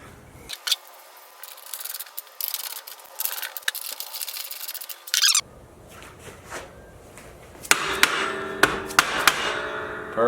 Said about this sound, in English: I'm going to tighten up the grade 8 bolts